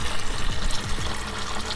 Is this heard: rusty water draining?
yes